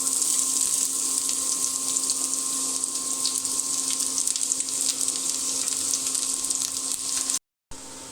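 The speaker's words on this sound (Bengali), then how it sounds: "এখানে তেল দিয়ে দিলাম গরম হয়ে গিয়েছে আমি এখন পেঁয়াজ কুচি দিয়ে দিলাম" Chopped onions sizzle and fry in hot oil in a pan, a steady close hissing crackle that runs without a break and cuts out briefly near the end, with no talking.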